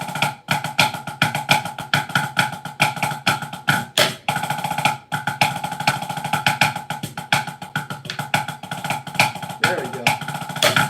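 A drum kit plays the chorus groove of a song, loud, busy and steady, with dense cymbal wash and sharp, regular hits driving straight through without pauses.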